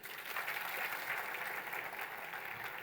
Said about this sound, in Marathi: अरे टाळ्या वाजवतं वाटतंय तर वाजवा